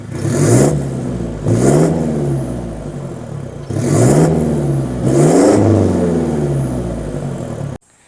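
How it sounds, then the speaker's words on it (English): Toyota Hilux GR Sport pickup with an HKS full exhaust revved hard four times, each loud rising blip dropping back to a steady idle, close up with no talk. "Now I'm pretty sure most of you would want to hear what this exhaust sounds like"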